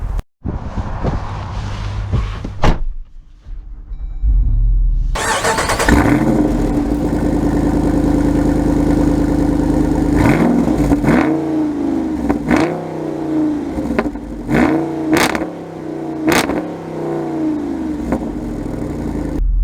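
A 2024 Jeep Wrangler 392 with its V8 firing up with a burst, settling into a deep rumbling idle, then a series of sharp, loud throttle blips rising and falling in quick succession, heard close and without talk.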